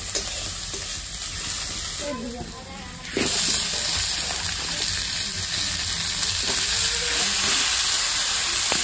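Eggplant and potato pieces for a thick home-style curry sizzle and hiss loudly in a hot pan, with stirring scrapes and a sharp burst of frying as they hit the oil.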